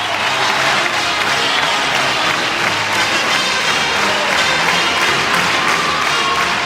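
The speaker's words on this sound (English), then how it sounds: "The crowd is sprung to life here." Fans in the arena at a women's college basketball game between Oregon and UCLA cheer and applaud during a timeout, making a loud, dense, continuous roar of clapping and crowd noise.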